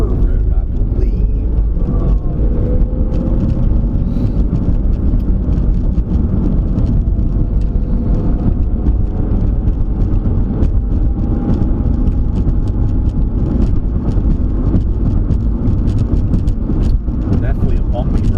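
A car drives along a bumpy road, a constant low rumble of engine and tires with frequent knocks and jolts, while people talk inside the cabin.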